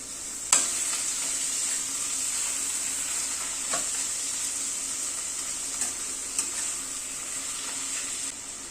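Chopped tomatoes hit hot oil with spices and kasuri methi, giving a steady hiss of frying with a few sharp spoon knocks against the pan; no voices.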